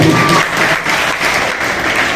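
Audience at a Shiva gathering at the historic Khimnath Mahadev temple in Mahuva breaks into loud, dense clapping that carries steadily throughout.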